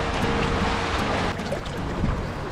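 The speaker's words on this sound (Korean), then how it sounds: "여기 중간쯤 오니까 파도가 되게 셉니다" Strong sea waves at a beach in Nha Trang, a continuous loud rushing surf with wind buffeting the microphone, steady and broadband throughout.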